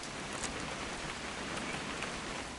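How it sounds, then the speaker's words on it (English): Steady rain falls in the video game What Remains of Edith Finch, a dense even patter of drops on surfaces, with no voices. "It's gonna rain the whole weekend, isn't it?"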